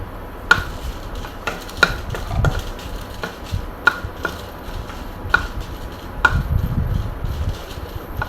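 Dry red chillies roasting in a dry pan while being stirred, with spaced clicks and taps of the utensil against the metal over a low, steady background rumble.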